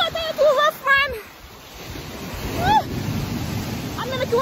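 Loud ocean water and waves: a constant rushing surf with swelling bursts, while voices and whoops break in now and then above it.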